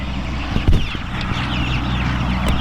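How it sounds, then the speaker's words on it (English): Chickens clucking and moving about close by, with soft scratching and a few sharper knocks over steady low background noise. "these chickens are really growing"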